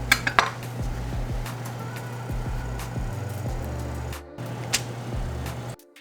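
Knife slicing through a rolled log of puff pastry filled with raisins, a run of close, crisp taps and scrapes on a hard board, with a brief pause near the end.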